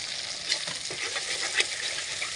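Homemade chili flakes, green chilies, salt and turmeric frying in a pan for a simple Chinese-style dish, giving a dense, steady sizzle with a couple of soft stirring clicks, close and with no voices.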